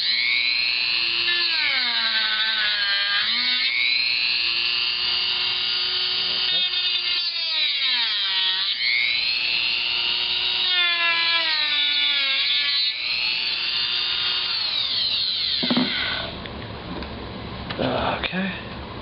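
A Dremel rotary tool cuts into an HP G62 laptop, giving a loud, continuous high-pitched motor whine whose pitch dips and rises as the bit bites, then cuts off near the end before a few short rattles.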